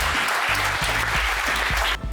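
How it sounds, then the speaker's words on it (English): Audience applause at a book launch, a broad, even wash of clapping that carries on steadily before cutting off abruptly near the end, with low hum underneath. "A round of applause for these folks."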